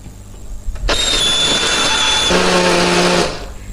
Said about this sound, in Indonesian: Hari ini aku pakai blender aja.